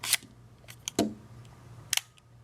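A few quiet mechanical clicks of the leaf shutter on an Olympus XA compact film camera, one sharper snap in the middle, with soft handling noises in an otherwise quiet room.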